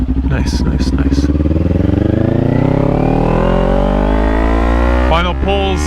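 A Kawasaki Ninja 400 motorcycle accelerates hard in second gear, its engine note climbing steadily in pitch, loud and close, with a rider's voice briefly over the roar.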